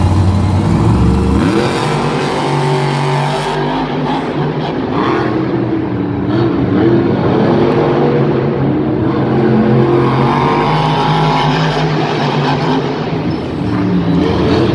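El Toro Loco and Dragon monster trucks racing at a Monster Jam event in Lyon, France, a loud continuous engine roar with revving swells and arena reverberation, and no talking.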